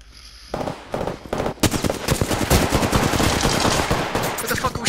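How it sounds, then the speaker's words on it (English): Dense rapid gunfire in the shooter game Apex Legends, starting with a few separate shots and then becoming a loud continuous hail of rounds with overlapping bursts. "What the fuck are we shooting at?"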